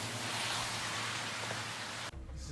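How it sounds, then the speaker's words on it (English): Light rain falls steadily while someone walks along a sidewalk under trees, a continuous soft hiss throughout that drops away abruptly near the end. "It's really not raining very hard"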